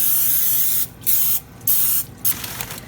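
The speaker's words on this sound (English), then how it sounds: "I'm going to spray it with cooking spray." Three short bursts of cooking spray hiss into a 9x13 pan, close and fairly loud, with a brief fourth puff at the end.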